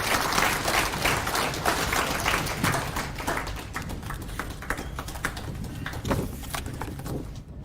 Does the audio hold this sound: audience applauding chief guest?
yes